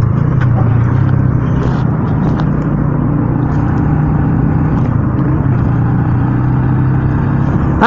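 A bus passes on a road, heard as a steady, loud engine drone with rumbling low tones held throughout, recorded from a motorcycle ride, with a brief sharp rise at the very end.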